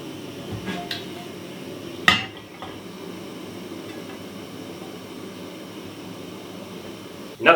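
A utensil clinks against a 120-year-old cast iron skillet while eating outdoors at a woodland camp, giving two sharp metallic clanks amid low background noise and some speech.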